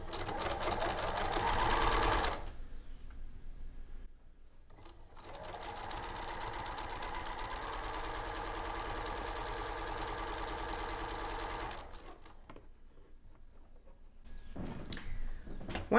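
A sewing machine stitching a garment's front band, a steady close whirring run of rapid stitches for about ten seconds, with brief starts and pauses around it.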